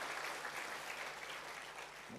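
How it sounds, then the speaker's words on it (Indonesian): A church congregation applauds and cheers for God, a dense, even wash of clapping that stays steady and moderately distant throughout. "Beri sorak-sorai bagi Tuhan gitu."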